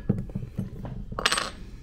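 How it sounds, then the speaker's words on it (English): Small metal zipper teeth on a duffel bag project get knocked off with a tool, giving a run of light clicks and taps, then a bright metallic clatter as the pieces drop onto a hard surface. "I'm just gonna knock a couple of teeth off one side of the zipper here."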